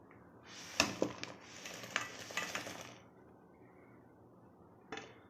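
Jackfruit payasam with jaggery stirred in a pot, with several sharp scrapes and clinks of the spoon against the vessel over a soft cooking hiss, then quiet and a final knock.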